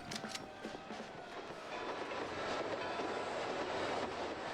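A train rumbles past in a video game as an environmental hazard, a dense building roar of wheels and rail clatter that grows louder and fuller over a few seconds, with no talk.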